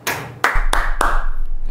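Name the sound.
hand clap recorded through Rode NT USB microphone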